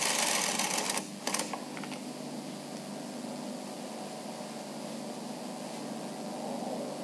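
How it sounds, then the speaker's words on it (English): The carriage of a Bond Classic knitting machine is pushed across a row of needles, giving a few quick clicks followed by a long, even, hissing slide that continues quietly to the end. "Always knit the main colour stitches first by taking the carriage across the row"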